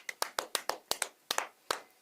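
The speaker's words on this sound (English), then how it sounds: "Can we give a hand clap tonight?" An audience claps at a live show celebrating the Denver Nuggets' Nikola Jokic as NBA MVP, with a sparse run of about ten distinct, crisp hand claps heard close and alone.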